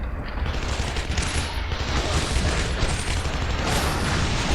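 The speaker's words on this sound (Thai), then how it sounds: "เนี่ยยิงรถเนี่ยรถก็ระเบิดเองนะครับ" Dense, continuous automatic gunfire with booming blasts and exploding vehicles roars nonstop, loud and chaotic, in the video game Shadow Warrior 2.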